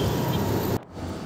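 Jammed, slow-moving road traffic in Hyderabad gives a dense roar of engines close by that cuts off abruptly partway, leaving a quieter rumble.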